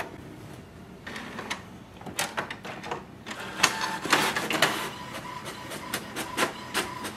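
HP Smart Tank 7001 printer making a color copy: quiet motor whir builds into a run of clattering mechanical clicks, whooshes and feed noises, close up and uneven, with no talking.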